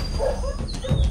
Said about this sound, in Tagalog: yan nga aso